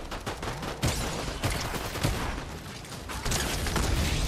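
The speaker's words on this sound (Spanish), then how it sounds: "Disparos delante." Rapid bursts of gunfire crackle in a Fortnite battle, with clustered sharp shots and short rattling volleys repeating at close range across several seconds.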